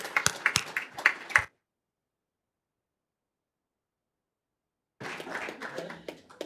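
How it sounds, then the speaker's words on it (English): Town council meeting attendees in Quispamsis give a short round of applause for volunteers, a brief burst of clapping that cuts to silence before more clapping resumes. "one more round of applause for all of our wonderful volunteers"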